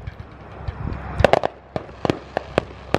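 Fireworks bursting over a roadside where a car has pulled over: a string of sharp cracks and pops at irregular intervals, fairly loud but some distance off, with no talk.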